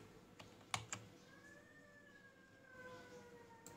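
Quiet typing on a computer keyboard, with a few soft clicking keystrokes over a faint background hum while a distant siren wails.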